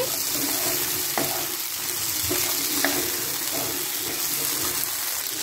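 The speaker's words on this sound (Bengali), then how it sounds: "আলুটা দিয়ে একটু নেড়ে দিচ্ছি" Cut potatoes stirred into a pan of frying cauliflower and prawn curry, with a steady hiss of oil and a few short scraping knocks of the spatula, close and even throughout.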